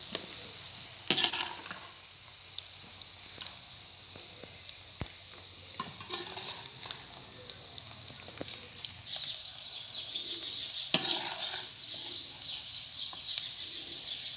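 Sliced bitter gourd (karela) sizzles steadily in a hot pan for a street-style karela fry, a soft continuous crackle with occasional stirring clinks and faint bird calls in the background.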